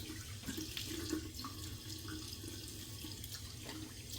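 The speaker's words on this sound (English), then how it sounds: "Do some cold water splash, we'll come back for the second pass." Water runs steadily from a bathroom sink tap and is splashed onto the face during a straight razor shave, a close, continuous rushing with soft splashing bursts and no talk.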